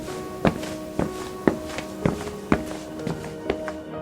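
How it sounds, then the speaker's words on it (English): Heavy, deliberate footsteps approach at a slow, even pace, seven or eight solid thuds about half a second apart, fairly close and clear over a steady low background hum with no talking. "The sounds of footsteps approached again, heavy and deliberate."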